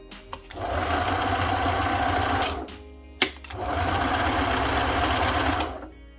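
A sewing machine motor whirs steadily in two long runs, stopping briefly between them, with a sharp click at the pause.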